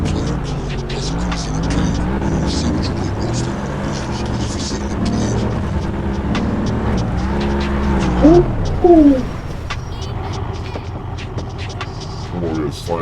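A car's engine roars loud and close, and its pitch rises and falls as the driver brakes hard and downshifts. A quick drop in revs comes near the end, and a voice talks over the engine throughout.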